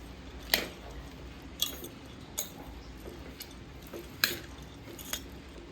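Bhel puri with lemon being mixed in a bowl, a few sharp, irregular clinks of a spoon against the bowl over a soft, faint background, with no talking.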